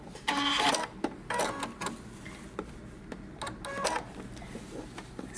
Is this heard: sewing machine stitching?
yes